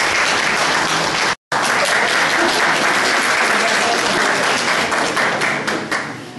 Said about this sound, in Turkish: Mahir konuşmadan alkış aldım.